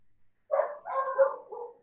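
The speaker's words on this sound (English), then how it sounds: "I hear a dog." A dog barks a few times at moderate distance, short yelping bursts spread over under two seconds in an otherwise quiet room, with no talking.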